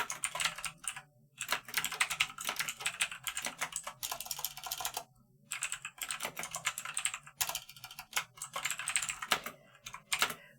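Someone types quickly on a computer keyboard up close, producing steady, rapid clacking keystrokes with a few brief pauses.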